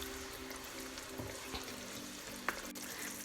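Sri Lankan chicken curry simmering covered in a pot on medium heat, with a soft, steady sizzle and bubbling under a faint electrical hum and an occasional small clink.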